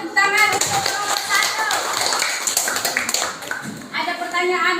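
Students in a classroom applaud a group, with a burst of many hands clapping for a few seconds alongside voices, then a brief lull and a few more claps.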